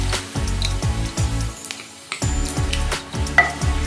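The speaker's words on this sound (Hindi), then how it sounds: "जीरा एबे फुटी गलानी।" Cumin seeds crackle and sizzle in hot oil in a kadai, a busy close-up frying hiss dotted with small pops and a few faint clinks of stirring.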